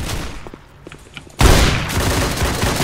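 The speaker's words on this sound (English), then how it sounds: "Who keeps shooting me?" Gunfire in the Roblox game Ray's Mod starts with a few scattered shots, then breaks into a sudden loud, dense burst of shooting that continues to the end.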